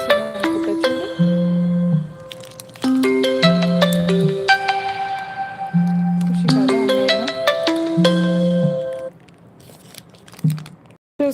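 A melodic phone ringtone plays for an incoming call, its repeating tune cycling loudly and steadily for about nine seconds before cutting off, with a faint voice underneath.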